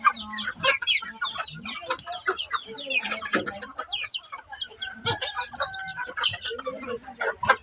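Chickens cluck in repeated short bursts on a rural farm, with a rooster adding calls among busy overlapping fowl sounds and faint background voices.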